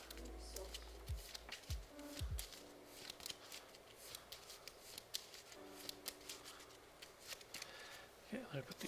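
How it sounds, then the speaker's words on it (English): A deck of board game cards being shuffled at a tabletop during a solo game setup, with a few crisp riffling bursts early on and then soft handling and shuffling noises. "give them a shuffle"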